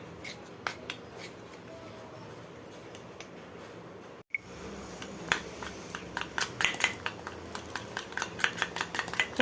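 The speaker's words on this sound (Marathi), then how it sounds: "थोडंसं तूप टाकूया आणि त्याला पूर्ण हलवून घेऊया" Cornflour being stirred with ghee in a bowl for a coconut karanji filling, heard as a run of light, quick scraping and clinking strokes that grow busier toward the end after a brief pause.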